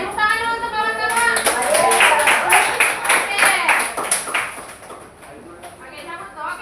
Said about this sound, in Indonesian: tepuk tangan dulu untuk kawan-kawan